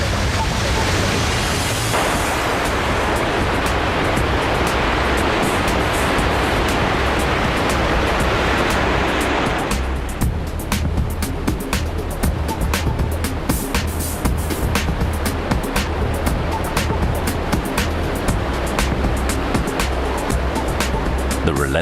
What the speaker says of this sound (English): The relentless power of the water is awesome.